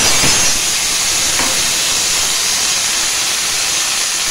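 Drained cabbage hitting hot oil and spices for a Bengali vegetarian dish gives a loud, steady steam-like sizzle and hiss that fills the whole stretch without a break.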